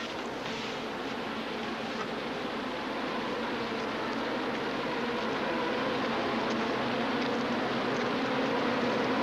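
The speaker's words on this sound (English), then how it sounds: "Grasshoppers." A dense, steady insect buzz fills the air, a loud continuous droning of a large swarm with no pauses or voices.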